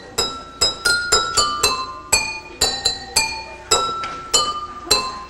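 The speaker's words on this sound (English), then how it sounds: "I set up a whole bunch of beakers here to serenade you" A tune is tapped out on a set of glass lab beakers, each strike a bright ringing clink with a fast decay, about a dozen notes in a steady melodic rhythm, close and clear with no talking.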